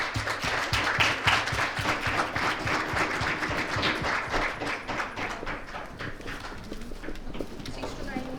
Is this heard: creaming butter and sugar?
no